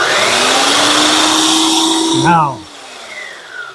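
A Masterforce 8.5 amp belt sander runs with a loud, steady whining motor and belt rush, then powers down and winds away to quiet; someone speaks a word as it slows.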